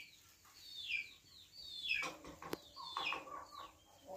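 Chickens cluck softly and repeatedly near automatic poultry drinkers, close-up, quiet calls in irregular bursts with a single sharp knock partway through.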